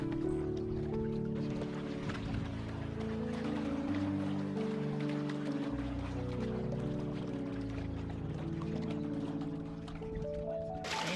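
Motorboat engines, four motors on one boat, drone steadily with a low, layered hum and rushing water in canals off Padre Island, holding constant before easing slightly near the end.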